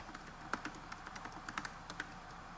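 Soft, quick keystrokes tap out an irregular patter on a keyboard connected to a vacuum fluorescent display, faint and close in a quiet room.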